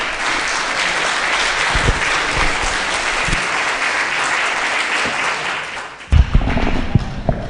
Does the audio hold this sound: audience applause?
yes